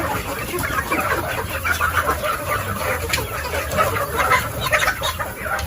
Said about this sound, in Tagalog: Kaya pag may pumapasok na tao dito sa kanilang kulungan, ganyan po kanilang reaksyon.